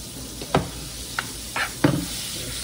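Butter being stirred in a pan for garlic shrimp, with four short scraping strokes spaced out over a low background hiss and no talking.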